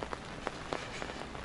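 Rain falls steadily at the Krasnaya Polyana mountain resort, a dense, even patter of drops on surfaces with a few sharper splashes standing out, moderately loud and with no voices.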